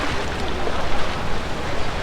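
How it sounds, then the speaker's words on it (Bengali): Sea waves roll onto the shore at Cox's Bazar beach along Marine Drive, making a steady, close, broadband rush with wind buffeting the microphone and no voices. "এই যে সমুদ্রের ঢেউ"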